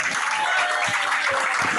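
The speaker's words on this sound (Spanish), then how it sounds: "Dale un aplauso al rey Yeshua" A church congregation applauds in praise, a short, steady wash of clapping with a few deeper thumps, moderately distant and without speech.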